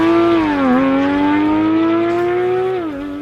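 Porsche 991 GT3 RS with straight-pipe exhaust roaring loudly at high revs, a sustained harsh engine note that dips briefly on shifts and climbs again, close and alone.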